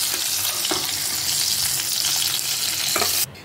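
Fish sizzles steadily in hot oil in a pan on a gas stove, a loud, dense frying hiss with a few small pops and utensil clicks, cutting off abruptly near the end.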